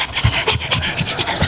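A dog panting close by in quick, rhythmic, breathy bursts at a steady pace, with no talking.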